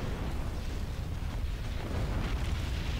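Continuous low rumbling booms and dull blasts of space combat in a Star Wars fleet battle game, a dense steady roar of explosions and cannon fire throughout with no talk.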